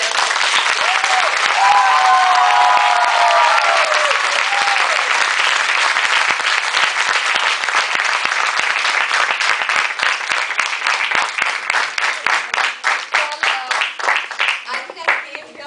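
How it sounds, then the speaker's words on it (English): Loud, sustained applause from a college audience at SRCC, dense clapping with cheering voices rising early on, thinning into more distinct individual claps toward the end. "So, give a very loud applause."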